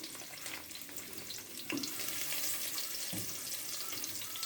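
Garlic, onion and ginger sautéing in a little oil for sinigang sa miso with salmon belly, a faint hissing sizzle with a couple of clattering stirs, steady and without voices.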